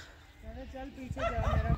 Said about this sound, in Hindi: देखो भाई ये तो भोंक रहा है कुत्ता